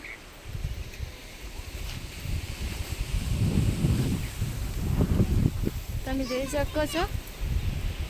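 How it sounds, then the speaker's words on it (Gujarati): Moderate wind blows and rustles as rain clouds gather and the sky darkens, rising in strength midway, while someone talks over it. "કેટલો બધો પવન આવી રહ્યો છે જો"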